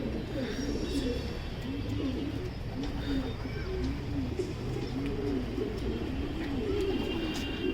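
Racing pigeons coo steadily in a loft, a repeated rolling coo looping every second or so, with faint background chatter and occasional chirps throughout.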